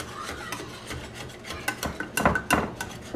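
Peach cobbler batter being stirred in a bowl, a spoon scraping and clinking against the sides in quick irregular strokes that build louder toward the end, close and alone without talk.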